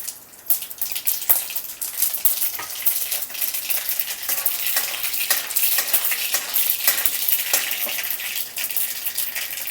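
Dense, continuous crackling and popping of mustard seeds spluttering in hot oil, close and fairly loud, with scattered sharper pops throughout.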